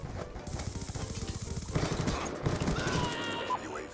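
Gunfire in Call of Duty mobile, rapid automatic bursts rattling quickly and evenly through the first half, then a denser, busier mix of shots and game effects, moderately loud and close.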